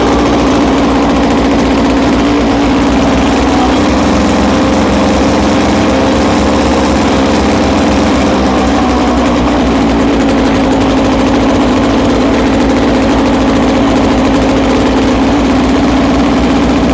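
A Victa lawn mower's small engine runs steadily at idle after a hard start, a loud, continuous drone with constant vibration and no talk.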